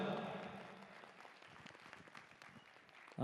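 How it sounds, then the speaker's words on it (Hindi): Applause breaks out at a stage performance of the drama Pandit Jaheer by a local arts troupe, starting strong with voices over it, then thinning to scattered claps before a loud sound cuts in at the end. "उनके लिए जोरदार तालियां हो जाएं"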